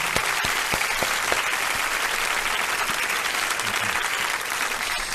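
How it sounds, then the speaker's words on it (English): Studio audience on a radio show applauds a first-time guest, dense, steady clapping that runs close and loud through the whole stretch with a few sharper individual claps early on. "let me give you a first time appearance round of applause"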